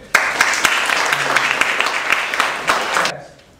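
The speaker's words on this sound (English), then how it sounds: "please join me with a round of applause for the panelists and the moderator." Audience applause for the panelists and moderator at a startup event, a dense burst of clapping that starts abruptly, holds steady and fairly loud for about three seconds, then cuts off and fades.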